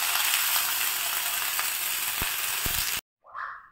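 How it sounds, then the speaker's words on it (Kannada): Chopped ginger, garlic and green chillies frying in hot oil in a pan for chicken biryani, a steady close sizzle with a few stirring clicks, ending abruptly before a brief voice. "ಇದನ್ನು ಸ್ವಲ್ಪ ಫ್ರೈ ಮಾಡುವ."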